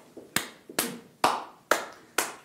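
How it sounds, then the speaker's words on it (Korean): Five sharp hand claps come at an even, unhurried pace, loud and close in a quiet room, with no talking over them. "박수."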